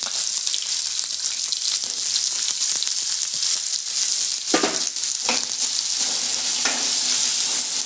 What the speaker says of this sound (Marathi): सर्वप्रथम कढईमध्ये थोडंसं तेल घालायचं आणि त्यामध्ये कांदा घालायचा।